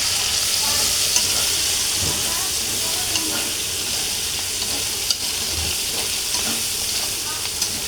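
Chopped tomato dropped into a pan of frying masala for a sweet, sour and spicy chicken curry, giving a loud, continuous close sizzle and hiss with occasional stirring scrapes and no talk.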